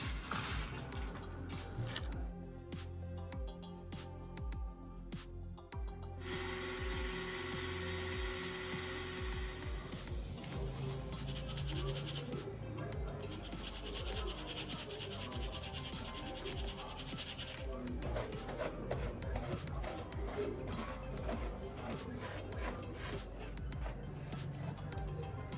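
A grinder churns dried onions into powder, a continuous gritty whirring and rubbing that shifts in texture as the pieces break down, fairly quiet and without voices.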